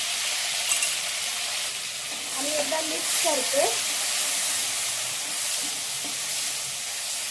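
A tempering of crushed green chili and garlic paste with cumin sizzles in hot oil, a loud continuous hiss with stirring. Someone speaks briefly over it partway through.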